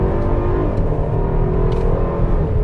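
A 2021 Mercedes-Benz GLC300's 4-cylinder engine pulls steadily under a manual paddle shift into second gear, a loud sustained hum from inside the cabin with a slight drop in pitch, with no talk over it.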